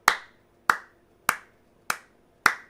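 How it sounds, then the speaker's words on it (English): Five sharp, isolated claps or snaps spaced evenly about half a second apart, close and crisp with quiet gaps between, a single person slowly applauding while seated. "Who can applaud Shorty with me?"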